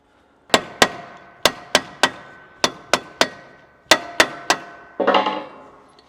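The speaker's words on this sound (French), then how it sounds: "ça c'est un tournevis à frapper" An impact screwdriver is struck with a hammer in about eleven sharp, ringing metallic blows at an uneven pace, followed by a short rattling clatter. The blows are close and loud, with no talking.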